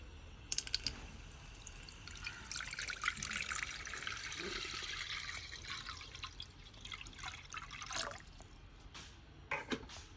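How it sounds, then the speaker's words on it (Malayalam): Water pours and splashes into a kadai for about ten seconds, a steady trickling, dripping flow with a few sharper splashes near the start and end, close by, no talking. "നമ്മള് ഈ കടായി വെച്ചിട്ട് അതിക്ക് 1 ലിറ്റർ വെള്ളം ഒഴിച്ചു കൊടുക്കുക"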